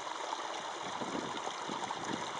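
A waterfall spilling into a rocky ravine in Arizona's Superstition Mountains gives a steady, faint rushing and trickling wash with no other sounds over it.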